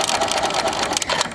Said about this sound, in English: put my paper underneath the sewing machine, drop it, and then I'm going to start to sew